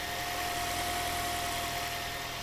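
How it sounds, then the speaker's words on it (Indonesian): A 2013 Daihatsu Terios TX sits with its engine idling in a constant, even drone, heard close and alone with no voices. "Nih, posisi mesin sudah hidup seperti ini kondisinya."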